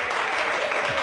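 A short burst of loud, dense audience applause, many hands clapping together in a continuous roar for about a second.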